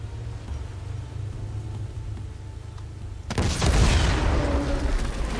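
An RPG rocket strikes an armored personnel carrier in Uncharted: The Lost Legacy, a sudden loud, close explosion bursting out of quiet game ambience and rolling into a sustained, rumbling roar that lingers to the end.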